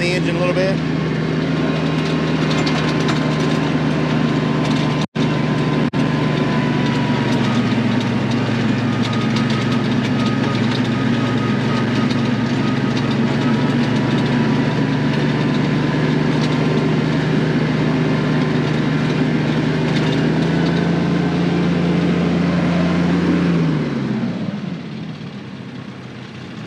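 A tractor engine pulls a flail mower uphill at 540 RPM in high range, a loud steady drone with a constant low hum that holds, then winds down near the end.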